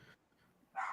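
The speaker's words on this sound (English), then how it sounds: "That's my dog." A dog barks once, a short sharp yelp near the end after a quiet stretch, fairly close and alone without talk.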